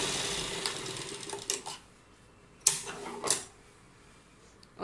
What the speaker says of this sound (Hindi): इसे सिल देंगे ऊपर से पहले।